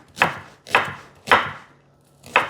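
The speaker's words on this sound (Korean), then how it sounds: "대파를 어슷어슷." Knife chopping green onion on a cutting board for a Korean braised radish dish, four sharp distinct chops at an uneven pace with short pauses between, close and fairly loud, no voices.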